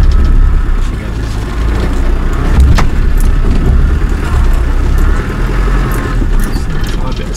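A Land Rover-type off-road 4x4 engine rumbles under load, pulling in second gear low range over rough ground, loud and steady with rattling and jangling from the cabin, and someone talks over it.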